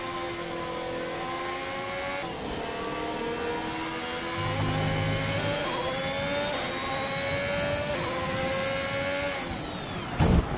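F1 car engine in the F1 2021 racing game, a loud, high, whining engine note that climbs and drops through gear changes and is heard alone, ending in a brief sharp impact.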